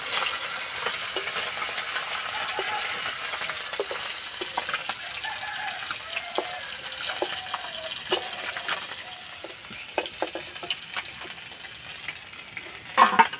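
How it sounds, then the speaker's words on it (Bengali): Bata fish pieces fry in hot oil in a pan, a continuous close sizzle and crackle with scattered pops and sharper clicks from turning, fairly loud and without any voice. "মাছগুলো একটু কড়া লাল করে ভেজে নেব।"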